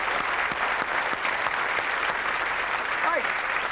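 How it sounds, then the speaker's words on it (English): Studio audience on a television talk show breaks into steady, dense applause that holds at an even level throughout, with a voice briefly audible through the clapping. "ladies and gentlemen, give her a round of applause"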